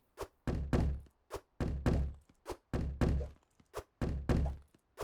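In the Hydroneer video game, objects drop onto a cart with a steady series of heavy, close thuds, roughly two per second, each a dull low impact with a short decay.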